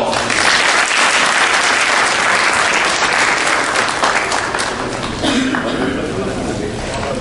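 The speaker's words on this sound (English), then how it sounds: "Please give a huge round of applause" Loud, sustained applause fills a hall after an excellence award for dynamic leadership is announced, a thick roar of many clapping hands that barely dips, with a voice rising near the end.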